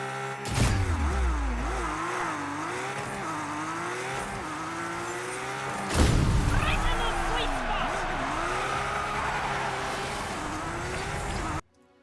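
Engines rev and cars crash in the PS5 vehicular combat game Destruction AllStars, with whining engine tones sweeping up and down and two sharp impact bursts over a steady, busy background.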